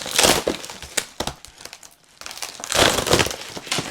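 A glued book package is torn open up close: loud crinkling and ripping of paper or cardboard in bursts, a short lull, then more sustained crumpling.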